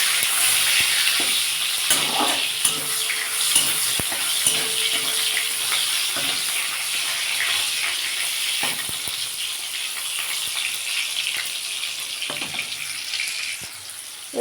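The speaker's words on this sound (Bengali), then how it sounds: "দিয়ে ভালো করে একটু ভেজে নেব।" Cloves and spices frying in a pan for a Bengali doi fulkapi (curd cauliflower) dish: a steady, close hiss of sizzling oil with occasional stirring clinks, and no voices.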